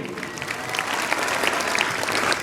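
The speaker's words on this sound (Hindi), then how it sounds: "एक तालियां फिर से बनती है आदरणीय संदीप जी के लिए" Audience applause at an Independence Day celebration at a school, a dense, steady wash of many hands clapping, fairly loud and sustained throughout with a few sharper claps near the front.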